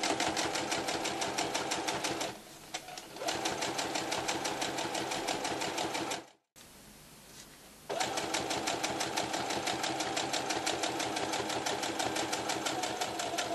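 A sewing machine runs steadily, stitching around the edge of a tea towel. The whirring is loud and close and stops briefly twice, once for a short pause and once for a longer break, before it starts again. No one talks.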